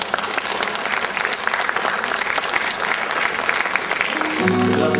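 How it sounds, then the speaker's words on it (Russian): Concert audience applause for a celebration performance, dense steady clapping from a crowd that runs throughout, with a sustained musical tone entering near the end. "Ваши аплодисменты."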